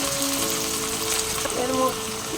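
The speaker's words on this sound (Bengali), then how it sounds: "এবারে এই পেস্টটা দিয়ে দিলাম, আদা, রসুন, কাঁচা লঙ্কা আর টমেটোর পেস্টটা দিয়ে দিলাম।" Ginger, garlic, green chilli and tomato paste sizzle in hot oil for an egg curry, a close, steady crackling hiss with a faint voice underneath.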